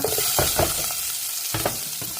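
Garlic and ginger sauté in a hot pan for chicken tinola, a short burst of close, bright sizzling with a few quick stirring scrapes.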